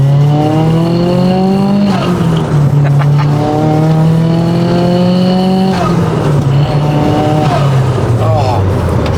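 A Nissan S15 Japanese sports car, a 200 to 300 kilowatt machine, revving hard on a track, its engine note climbing through gears with sharp drops at each shift, loud and close throughout.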